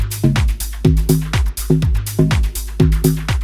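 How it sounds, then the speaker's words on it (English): Groovy deep tech percussion and drum loop, with busy hats and percussion over punchy repeated bass hits in a steady, dense rhythm, loud and without speech. "His percussion and drum loops are extremely groovy and full of instruments, and they sound something like this."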